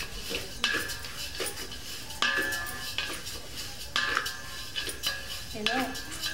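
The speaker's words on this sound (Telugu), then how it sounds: "ఇప్పుడు మనం రైస్ కూడా వేసుకుని ఫ్రై చేసుకుందాం." Rice being fried and stirred in a metal pan for sweet chakkera pongali, with repeated scraping clinks of a spoon against the pan over a faint sizzle, close and steady, no talking.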